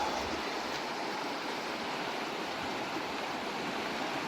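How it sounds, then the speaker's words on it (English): A Montana forest creek rushes past, a steady broadband wash of flowing water close by with no breaks or other sounds. "the sound of the creek is soothing, fresh water"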